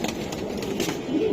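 A large old hammer pigeon coos softly and close by, a brief low rolling call with faint background noise.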